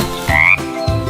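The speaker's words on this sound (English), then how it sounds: "And the dart frog is bright and bold." A dart frog gives two short, loud, close croaks, the first more tonal and the second lower and rougher, separated by a brief gap.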